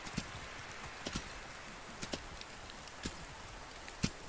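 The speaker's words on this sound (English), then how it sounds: "If I ride out into the field, I can sell to Dagbert without even getting off my horse." Horse hooves clip-clop at a walk while riding through a field in the Medieval Dynasty video game, falling in soft paired beats about once a second, moderately faint and steady.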